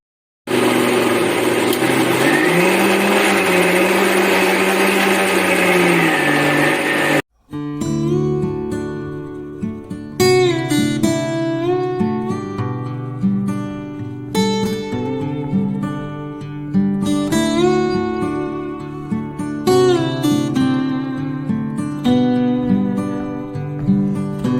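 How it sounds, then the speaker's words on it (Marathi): A mixer grinder grinding a masala mixture for a Malvani-style clam curry, a loud, steady whirring roar for about seven seconds that cuts off abruptly, followed by music. "मिक्सरला ते सर्व मिश्रण आहे ते बारीक वाटून घ्यायचं"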